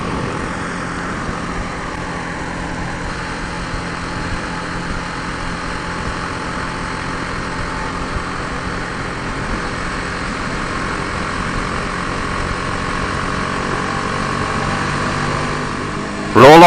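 BMW G310R motorcycle, a 2018 model, rolling on the throttle in sixth gear from about 50, its engine giving a steady, even drone with wind rush that holds at one level throughout.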